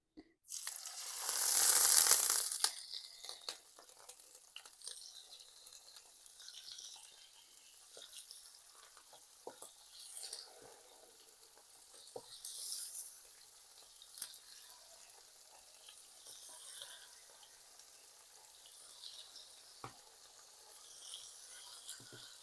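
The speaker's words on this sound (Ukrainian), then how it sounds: "І будемо смажити печіночку." A loud sizzle erupts as liver hits hot oil in a pan, then settles into a quieter, steady frying crackle with occasional pops and stirring.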